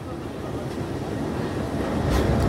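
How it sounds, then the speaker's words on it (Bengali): A Bhanga commuter train pulls into Padma rail station with a steady, close, low rumble of wheels and carriages that grows slightly louder toward the end. "পদ্মা রেল স্টেশন প্রবেশ করলো।"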